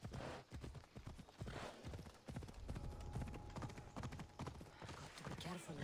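Horse galloping in Assassin's Creed Odyssey, a rapid, steady clip-clop of hooves running throughout with faint game ambience underneath, while a player talks over it.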